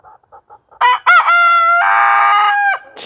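A rooster crows loudly and close by in a home garden with chickens, a long drawn-out cock-a-doodle-doo after a few short clucks, ringing out alone without any talk.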